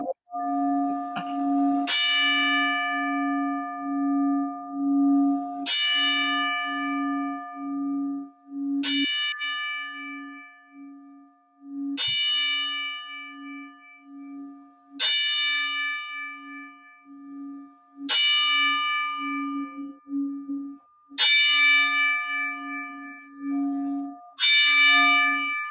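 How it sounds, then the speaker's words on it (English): Ten church bells toll in a slow, steady series of loud, ringing strikes spaced a few seconds apart, each hum lingering into the next, with no talking. "Those 10 bells is also for Franco."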